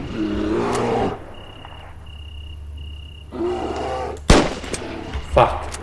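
Gunfire from a firearm loaded with poor-quality bullets, fired at a bear in the survival video game NEXT DAY: Survival, with a few sharp shots in the second half after a stretch of rumbling game ambience.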